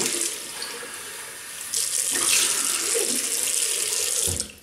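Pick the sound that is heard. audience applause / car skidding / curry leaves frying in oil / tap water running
tap water running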